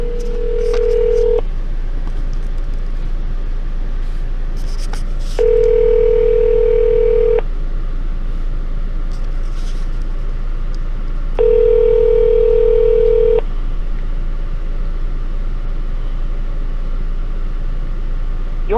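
Telephone line tones during a call to a city legal department: a steady low hum runs beneath three separate bursts of a sustained ringing tone, each about two seconds long and spaced several seconds apart.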